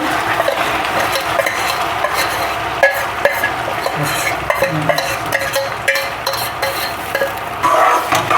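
A caramel-coloured homemade cake batter is stirred in a metal pot or bowl, with continuous scraping and clinking of the utensil against the vessel and faint sizzling underneath, steady and close throughout.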